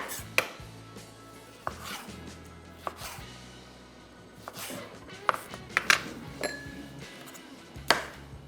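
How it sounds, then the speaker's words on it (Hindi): A knife chops cucumber on a board in irregular sharp knocks, a few ringing clinks of utensils between, close and fairly loud with no one talking. "खीरा और ये चीज़ें जो आइटम है इसको भी हम काट के रखेंगे"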